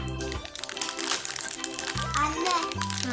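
Crinkling plastic wrapper of a candy package being opened, steady rustle close by while a child and an adult talk over it.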